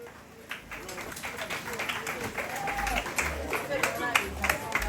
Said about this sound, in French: Sous vos applaudissements, on les raccompagne, s'il vous plaît.